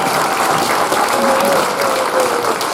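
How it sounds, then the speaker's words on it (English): A school crowd applauds second graders after their singing at a Veterans Day event, steady clapping with a few voices mixed in, ongoing through the moment. "Another round of applause for them."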